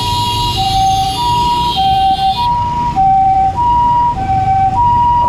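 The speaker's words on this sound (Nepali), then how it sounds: "एम्बुलेन्स गएको छ" Ambulance siren wailing loud and close in street traffic, a steady two-tone up-and-down pattern repeating throughout over rumbling vehicle noise.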